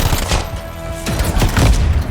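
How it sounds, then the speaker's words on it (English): Enemy gunfire in the video game Anthem comes as loud, dense, overlapping shots and blasts, a chaotic fusillade with no voices. "They all fired at me."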